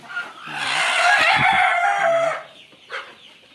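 Several chickens cluck and squawk close by in a busy burst on a poultry farm, then fade to a few scattered clucks.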